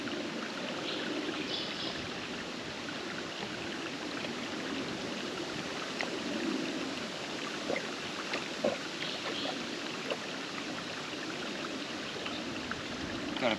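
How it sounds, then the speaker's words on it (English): Water from a clear forest stream is gathered into a bottle on a pilgrim trail near Perth, a steady gentle rush and trickle of flowing water with small splashes and handling clicks, fairly quiet. "I'm just going to gather some water here."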